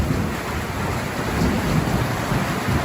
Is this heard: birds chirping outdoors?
no